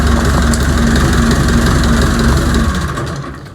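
A tractor engine idles with a steady low, heavy rumble and a faint whine, holding even before tapering off near the end.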